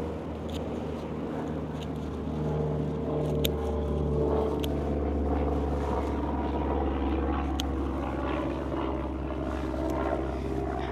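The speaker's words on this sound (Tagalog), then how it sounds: "Meron na namang ano, eroplano." A low-flying airplane passes overhead in a Belgian garden during grape or lavender pruning, a steady loud engine drone holding for the whole stretch with faint outdoor sounds on top.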